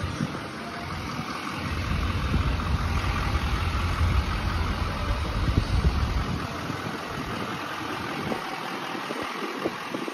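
A 2015 Chevy Silverado 3500 pickup engine idles steadily at close range, a low continuous rumble with a faint hiss above it and no talking.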